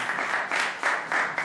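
Audience applause for a singer at a televised music show, a steady wash of many hands clapping in surges, moderately loud and without voices over it.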